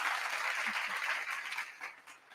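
A live comedy show's studio audience gives a brief, dense burst of applause that fades slightly toward the end, with a few faint voices underneath.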